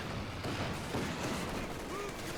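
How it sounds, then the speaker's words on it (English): MG 42 machine guns fire in the Company of Heroes 2 strategy game, a dense, continuous crackle of battle under a commentator's steady talk. "MG Wars, looks like the MG 42's winning out there."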